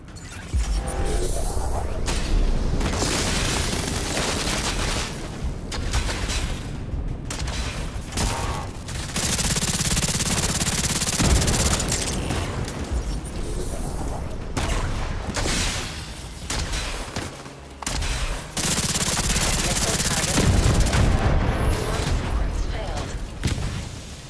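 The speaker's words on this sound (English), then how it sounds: "Rogue artillery turret detected." Continuous artillery turret gunfire in The Division 2 on Liberty Island, dense rapid bursts and heavy booms filling nearly the whole stretch, with brief gaps between volleys.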